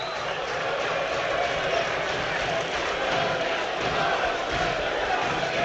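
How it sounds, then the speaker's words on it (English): A football stadium crowd at AFC Bournemouth versus Manchester United roars in a steady, sustained wash of cheering and chanting, dense and continuous throughout, with a commentator talking over it. "the crowd just feeling it at the moment"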